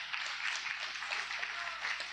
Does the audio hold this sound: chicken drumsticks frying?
no